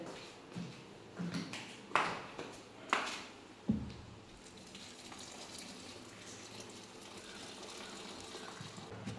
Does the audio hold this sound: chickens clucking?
no